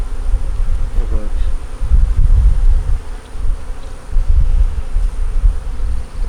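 Honeybees buzz steadily and loudly around a small nucleus hive, a dense droning swarm close by that swells and dips without a break.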